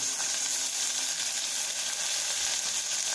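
Ginger garlic paste sizzles in a hot pan while tomato rice is cooked, a continuous close frying crackle at an even level with no break and no talking.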